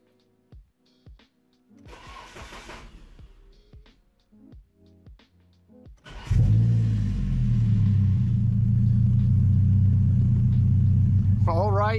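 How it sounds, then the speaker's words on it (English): A car with a Nissan KA24ET turbo engine and a relocated battery cranks and fires up, settling into a loud steady idle rumble, preceded by clicks, door and seatbelt noises and quiet talk. "Let's see if we can get the car to start."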